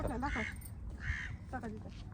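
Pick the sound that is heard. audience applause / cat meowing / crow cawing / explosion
crow cawing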